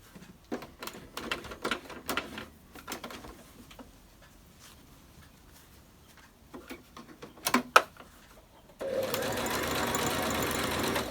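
A sewing machine stitches a fabric face mask in short, close bursts of rapid mechanical chatter with pauses between, ending in a longer steady run of stitching.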